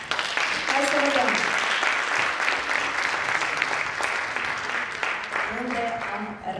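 Audience applause at a Mărțișor-for-mothers stage show, dense clapping that runs steadily throughout while a voice speaks over it briefly near the start and again near the end.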